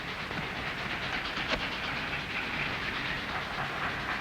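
A train rolling along rails in a mountain setting, a steady rumbling wash with faint rhythmic clatter, moderately distant and continuous, with no voices over it.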